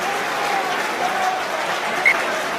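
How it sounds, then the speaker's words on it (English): A rugby crowd at Northampton versus Gloucester gives a steady, fairly loud wash of applause and cheering as an attacking line-out is set up, continuous with no breaks. "A little bit of animation from the crowd for this attacking line out to come"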